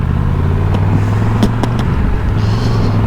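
The big engine of a Triumph Tiger 1200 GT Pro motorcycle rumbles in a loud, steady, low drone heard up close, with a few faint clicks over it and no speech.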